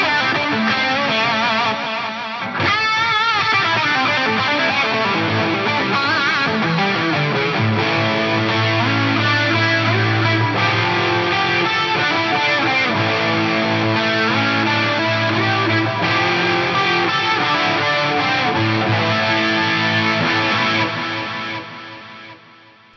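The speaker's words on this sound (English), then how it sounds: "The delay's kind of giving me my main ambience" A sustained, distorted electric guitar plays through a long delay on a Zoom 9150, its repeats stacking into a dense, continuous wash of sound before fading at the end.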